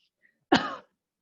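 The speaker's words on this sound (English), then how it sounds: "You're going to take a really deep cough." One deep, forceful cough bursts out alone, short and loud against silence.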